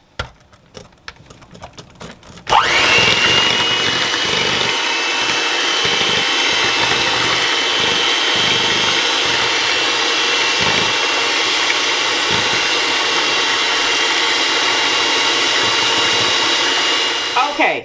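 An electric mixer whirs steadily through custard pie filling, a loud, continuous motor drone that starts abruptly after a few seconds of quiet handling noises and runs on with slight dips before stopping.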